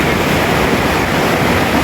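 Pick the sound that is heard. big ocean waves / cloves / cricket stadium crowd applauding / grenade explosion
big ocean waves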